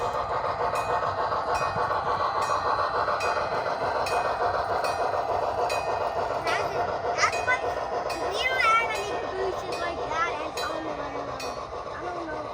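An outdoor G-scale model train runs with a steady rolling rumble and rhythmic clicking over the track, while thin squeals and chirps come through near the end.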